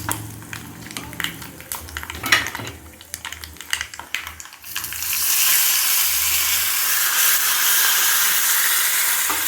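Chayote gravy tempering begins with clicky crackles and pops, then a loud, steady sizzle surges as curry leaves and asafoetida hit hot oil, with no talk.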